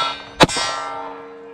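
A single sharp metallic clang from a bullet striking an MGM Coyote steel target, ringing out with a bright sustained tone that slowly fades, alone with no talk.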